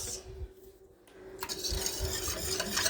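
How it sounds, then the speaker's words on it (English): A spoon stirs in a bowl of water to dissolve salt, giving soft clinks and swishes against the bowl that grow busier in the second half, close and fairly quiet. "just try and mix it up until it pretty much dissolves."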